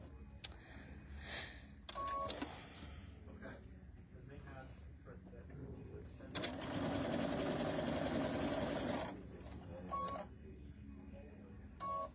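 A sewing machine stitches fabric pieces for a quilted tabletop banner, running in a few short bursts and then one longer steady run of several seconds, with someone talking between stitches.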